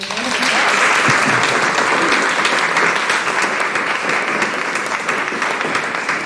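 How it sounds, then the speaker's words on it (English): Audience gives a round of applause for a discussion panel at an inclusion event; loud, sustained, dense clapping fills the whole stretch at a steady level. "Let's give our panel a round of applause."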